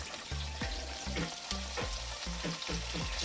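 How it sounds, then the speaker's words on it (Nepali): Local chicken meat fries in a kadai with a loud, close, crackling sizzle, broken by repeated scraping strokes of a stirring spoon that come at a fairly even rhythm. "मासु पस्यो अब कराईमा"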